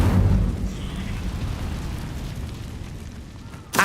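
A fire spell cast in Hogwarts Legacy gives a loud, low roaring burst that sustains for several seconds and then ends in a sharp final crackle, with no voice over it.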